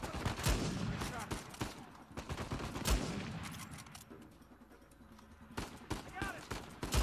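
Gunfire in a firefight in Uncharted 4: A Thief's End, with repeated sharp shots and bursts scattered through the scene, some near and loud, others farther off, over background game noise and spoken voices.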